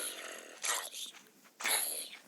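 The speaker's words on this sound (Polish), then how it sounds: "Tutaj zombie w tle." Two harsh, raspy Minecraft zombie groans sound up close, short and guttural, separated by a brief pause.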